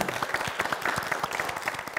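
Studio audience clapping on a family game show, a brisk burst of many hands with sharp individual claps audible, steady and fairly close, no talking over it.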